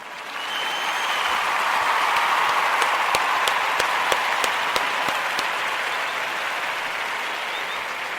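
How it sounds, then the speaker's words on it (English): Steady audience applause fills a room celebrating the Ujima principle, a dense wash of many hands clapping at even loudness with a few sharper individual claps standing out, continuing throughout without talk. "We want to give all the Ujima babies a round of applause"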